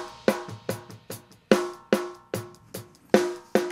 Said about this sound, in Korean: 이런 경우는 8분음표 단위로 하는 게 좀 명확하게 들릴 수가 있습니다.